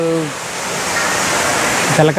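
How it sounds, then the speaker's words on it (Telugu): A steady rush of pouring water fills the clip, with brief speech at the start and end. "అక్కడ పైన చూడండి ఆమె నీళ్ళు పోస్తుంది"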